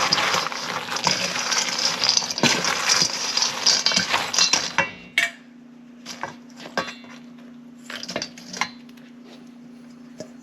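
Egg whites being mixed in a bowl with utensils for a Chex mix Christmas treat, a dense stretch of scraping, clinking stirring followed by scattered sharper taps and knocks against the bowl, close and fairly loud, no talking.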